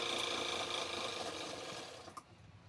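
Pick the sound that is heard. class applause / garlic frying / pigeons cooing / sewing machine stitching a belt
sewing machine stitching a belt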